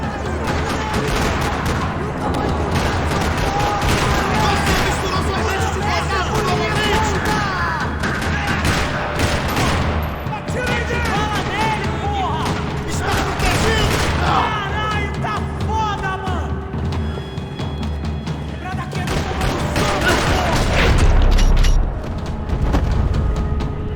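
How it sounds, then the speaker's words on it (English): Dense bursts of gunfire and booming explosions rattle continuously amid busy game sound effects in a parking lot shootout in Max Payne 3, with voices occasionally heard underneath. "Another parking lot rattling with gunfire."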